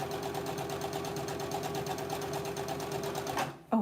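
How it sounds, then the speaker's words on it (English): A sewing machine runs steadily at a quilting sew-along, its fast needle rhythm close and continuous before cutting off abruptly near the end. "over the noise of the sewing machine."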